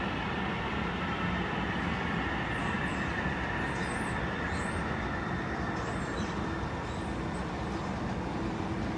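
Light rail train at Seattle's Westlake Station, a steady loud rumble of rolling cars filling the whole stretch, with faint high whines and squeals drifting over it and no talking.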